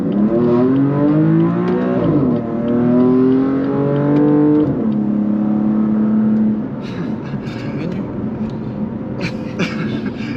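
A BMW M3 CS engine pulls through a moderate acceleration, its loud rising exhaust note climbing, dropping at a shift, then climbing again before settling into a quieter cruising drone.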